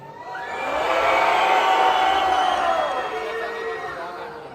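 Boys in a concert hall crowd at a show shout and cheer together, a broad roar that swells to a peak in the middle and then slowly fades. Scattered yells stand out over the mass of voices.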